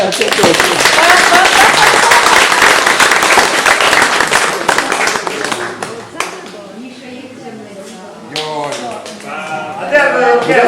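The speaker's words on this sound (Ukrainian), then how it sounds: "а всі аплодують." Everyone claps loudly at a fiftieth birthday party, a dense roar of hands that fades after several seconds into scattered claps, with people talking and laughing over it.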